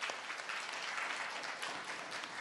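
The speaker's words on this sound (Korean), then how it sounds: "박수로서 환영을 해주시면 감사하겠습니다." An audience at a forum breaks into applause, a dense, steady wash of clapping from a crowd in a hall that holds even for a couple of seconds.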